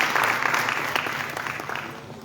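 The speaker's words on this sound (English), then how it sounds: "Now, a round of applause for Mr. Ansitoka" Audience at a multi-stakeholder public administration consultation gives a moderator a round of applause, a steady close burst of many hands that gradually thins and fades over two seconds.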